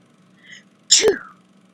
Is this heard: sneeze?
yes